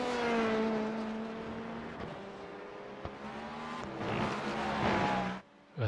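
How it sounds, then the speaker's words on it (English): A Cadillac prototype race car in the iRacing simulator at a Le Mans 24 Hours qualifying session, its engine droning with shifting pitch as it closes in and passes, loud and continuous with faint tire noise. "Well, that sounds like a Mustang behind me. Oh no, that's a prototype. Oh, it's Cadillac."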